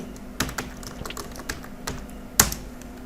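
Keys tapped on a computer keyboard while coding in Android Studio: a handful of light, scattered clicks over a faint room hiss, with one sharper, louder keystroke near the end.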